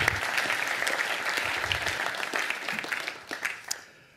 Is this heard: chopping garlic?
no